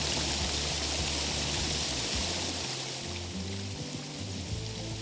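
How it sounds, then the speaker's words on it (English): A Texas waterfall is ridden through on a freezing day, giving a steady loud rush of falling and splashing water with a low engine-like drone running underneath, continuous and close. "I just can't pass up the chance to ride through a Texas waterfall."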